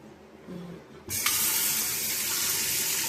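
Kitchen tap opening partway through and running steadily to fill water, a sudden broadband rush that stays constant and close after a short quiet start.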